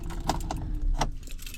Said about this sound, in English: Oh, I got my keys right in my hand.